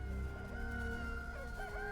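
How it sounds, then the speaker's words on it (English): Chickens crowing in the video game Valheim, a steady run of tonal cock-a-doodle calls over a constant low ambient hum, close and continuous with no talking. "chickens are crowing."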